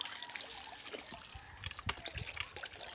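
Mountain-fed water runs from a hose onto the ground while lansones seedlings are watered outdoors, giving a soft, steady hiss and trickle with faint splashes and low bumps.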